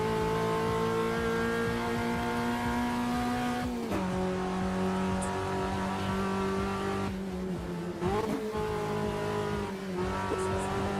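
Sim race cars accelerate off the line at a race start in a video game, a dense, continuous engine whine that steps down with each gear shift, with rising revs and a hint of tire squeal throughout.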